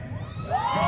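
A crowd at a street protest shouts and cheers together in a loud, continuous roar that swells toward the end of the moment.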